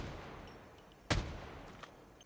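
A single loud gunshot from an AK47 rifle in a video game rings out near the middle, standing alone against a quiet background hiss, with no talk.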